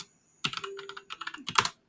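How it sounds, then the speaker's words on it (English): Quick bursts of typing on a computer keyboard, close and crisp, with a pause between two flurries of keystrokes and silence before and after. "Sorry, just typing something on my other computer at the time."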